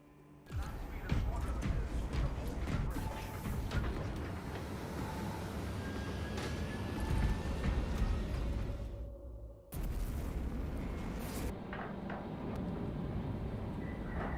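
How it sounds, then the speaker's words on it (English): Heavy pyre cannon firing in the video game Space Marine 2, a sustained loud roaring burst of flame that cuts off sharply and then resumes, with game effects around it. "What about a heavy pyre cannon?"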